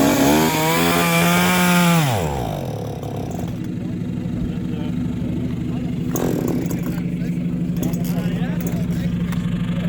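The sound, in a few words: chainsaw cutting a fallen tree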